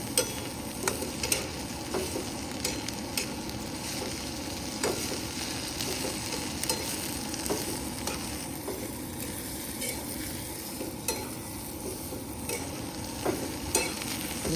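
Seeds and chillies roast in a pan with a soft, steady sizzle and frequent light scraping and tapping from stirring. The sounds are close but quiet, and no one talks.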